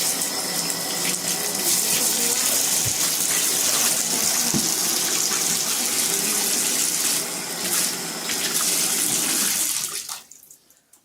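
Water runs steadily from a tap into a drain that has just been unclogged with vinegar and baking soda, a loud continuous splashing rush lasting about ten seconds before cutting off.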